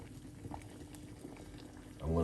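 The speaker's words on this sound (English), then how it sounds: "It's boiling up, guys." Water with pineapple peels boils in a pot on a cooker, a faint, close bubbling and simmering that swells louder at the end.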